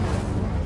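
A fire spell being cast in the video game Hogwarts Legacy gives a brief, dense, roaring whoosh of flame that stays steady and loud for under a second.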